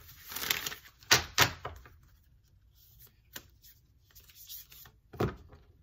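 Oracle cards from a Moonology deck are shuffled in a few quick, crisp riffling bursts, with soft handling sounds in between in a quiet room.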